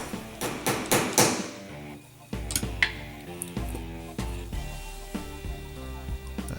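Hammer taps drive a trigger pin into a Remington 870 shotgun trigger group from left to right, a quick cluster of sharp metallic knocks followed by a few spaced taps, close and clear with no talk.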